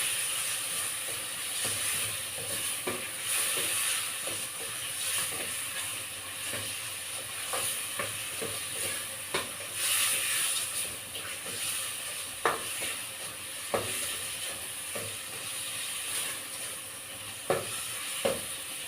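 Shrimp sizzling in a pan of sautéed monggo, a steady close frying hiss with occasional spatters and light stirring clicks, no voices.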